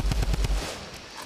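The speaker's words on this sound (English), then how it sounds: "A lot of AR ammo being used." A short, rapid burst of assault rifle fire in Fortnite, about five quick heavy shots, then fading reverberation.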